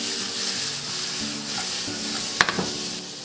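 Shrimp sizzle in a hot pan for linguine, a steady close hiss of frying with a brief clink of a utensil near the end and no voices.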